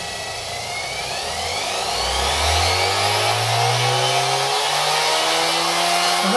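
A Ferrex PGB75G1 mini bench grinder from Aldi, driven through a flex drive, spins up to full speed with a steady, close mechanical whine whose pitch rises and then holds, running alone without talk.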